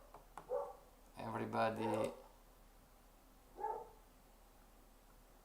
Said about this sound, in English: my two dogs are getting crazy